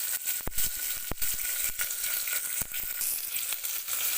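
Chopped onions sizzle in hot oil with green chillies and whole spices for tomato rice, a constant close frying hiss broken by sharp clacks of a spoon against the pan.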